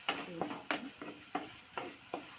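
Ingredients for a crab curry sauté in a pan, a soft steady sizzle broken by regular scraping strokes of a spatula about every third of a second, close and quiet, with no talking.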